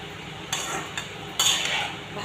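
Cauliflower and capsicum fry in a pan while being stirred. A steady hiss of sizzling oil runs throughout, and a few louder scrapes of the spoon against the pan stand out.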